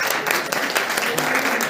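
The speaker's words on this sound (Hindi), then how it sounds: "तालियों से उनका स्वागत करेंगे।" Steady applause fills a hall at a campus blood donation camp, welcoming the campus director, dense clapping from a seated crowd throughout.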